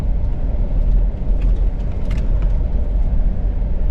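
A pickup truck crawls slowly along a rough off-road track in Ratchaburi hauling rocks, giving a loud continuous low engine rumble with bumpy thuds and some faint rattling on top.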